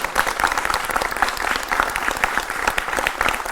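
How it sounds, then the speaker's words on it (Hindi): A studio audience at a Hindi TV news debate applauds the arriving guests with dense, steady clapping that carries on evenly, loud and close, with no talk over it. "जोरदार तालियों से आप उनका भी स्वागत करें।"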